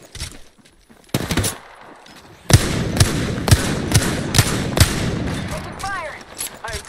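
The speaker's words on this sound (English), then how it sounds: "Taking fire! I am taking fire." Bursts of automatic gunfire in Apex Legends, a few isolated shots and then a rapid volley of punchy rounds, close and loud over ambient game noise, with a synthesized voice speaking in between.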